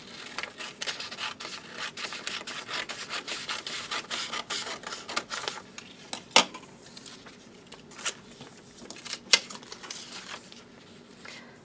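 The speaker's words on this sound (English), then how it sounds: "I'm going to fold it up and I'm going to cut off that rectangle" Paper being folded and cut for a 3D snowflake: soft rubbing and creasing rustles close by, with a couple of sharp snips from scissors standing out, no voices.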